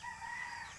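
A rooster crowing on a backyard chicken keeper's property on a Sunday morning, a short faint call heard alone at a distance, with no talking.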